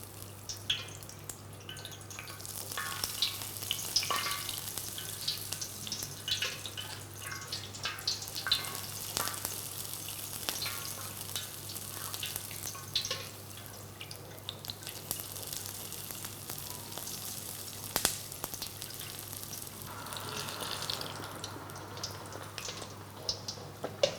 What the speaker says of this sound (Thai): ผมจะทำการทอดนะครับ จริงๆเนี่ยเราจะ จุ่มลงไปในน้ำมันเลยก็ได้นะครับแต่ว่าอันนี้อยากจะให้เห็น จังหวะที่ผิวหนังมันฟูนะครับ เราก็จะทำการตักน้ำมัน ร้อนๆเนี่ยราดลงไปนะครับ